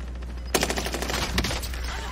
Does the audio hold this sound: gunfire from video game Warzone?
yes